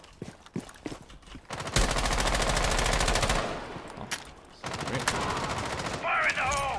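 Rapid automatic gunfire in Rainbow Six Siege, a long loud burst followed by more bursts and scattered single shots, with game sounds mixed in.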